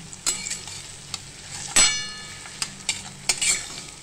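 Chopped onion fries in a pan for dahi bhendi, a low sizzle punctuated by a handful of sharp metallic clangs and scrapes as a utensil stirs and knocks against the pan.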